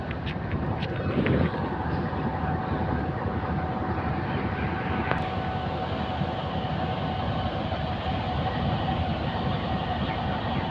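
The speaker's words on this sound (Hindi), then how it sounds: "बहरहाल ट्रेन जो है वो रवाना हो रही है" A passenger train pulls out of a station with a steady, loud rolling rumble and clatter that fills the whole stretch, no voices over it.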